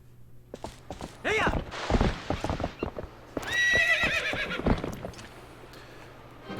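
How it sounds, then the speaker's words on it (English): Horse neighing and whinnying in the video game The Legend of Zelda: Twilight Princess, with hoof clip-clops from galloping; several loud whinnies stand out near and clear, interleaved with hoofbeats. "Slap the shit out of your horse, Link."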